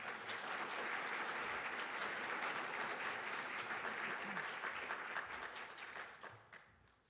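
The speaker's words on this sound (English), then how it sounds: "Please give them a warm round of applause." A crowd at a university master's hooding winter ceremony gives a warm round of applause for university officials. Dense, even clapping holds steady and fairly distant, then tapers off at the end.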